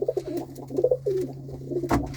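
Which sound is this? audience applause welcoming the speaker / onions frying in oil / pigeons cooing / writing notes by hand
pigeons cooing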